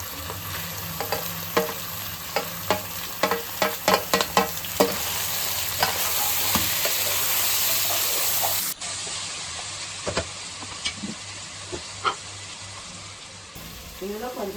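Ginger-garlic and tomato frying for egg biryani sizzle steadily in a pan, with frequent clattering stirs and a hissing burst midway, and a voice briefly talking.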